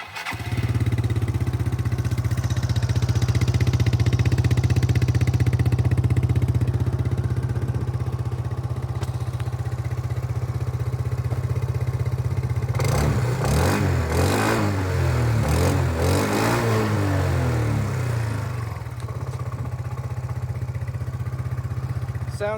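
A stock 2013 Honda Zuma 125 scooter with an NCY aftermarket exhaust idles steadily up close, its low engine drone continuous throughout, then blips and revs briefly in a burst of throttle before settling back to idle.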